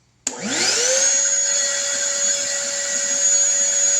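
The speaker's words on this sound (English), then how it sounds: "We're going to power this vacuum again" A vacuum cleaner running on a modified DIY 48-volt 314Ah battery kit switches on abruptly, its motor whine sweeping up in pitch and then holding a steady, loud, high hum on its own.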